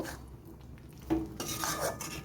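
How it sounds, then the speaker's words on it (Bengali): Fried potatoes with green chili paste are stirred in a pan, a quiet scraping and rubbing of a spoon against metal with a few louder strokes in the second half, no voices. "এবারে আলুর সাথে খুব ভালো করে আমি নেড়ে চেড়ে নেব"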